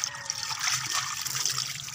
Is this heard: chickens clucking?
no